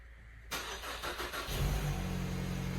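A Kia Stinger engine cranks and catches at once, settling into a steady, loud idle rumble close by.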